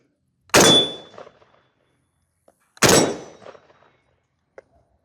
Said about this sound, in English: Let's go ahead and do some shooting at it real quick.